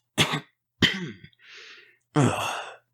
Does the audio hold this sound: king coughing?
yes